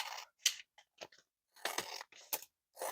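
Scissors cut through snack crate cardboard packaging in a handful of crisp, close snips and crunches, separated by short silent pauses.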